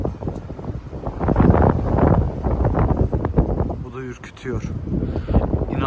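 Strong wind in Kütahya, Turkey buffets the microphone in heavy, rumbling gusts, with voices talking underneath.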